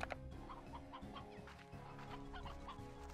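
Chickens clucking in the video game Slime Rancher, a busy cluster of short, overlapping clucks layered over steady game music and ambience, moderately loud throughout.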